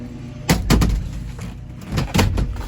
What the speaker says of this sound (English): Fold down seat works good.